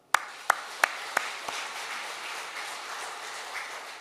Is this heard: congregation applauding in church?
yes